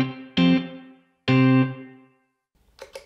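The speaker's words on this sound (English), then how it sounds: "A short reverb," Short reverb on a music mix: two sustained electric guitar-like chords ring out and cut off quickly with a tight, brief tail, followed by a faint distorted flicker near the end, no voices.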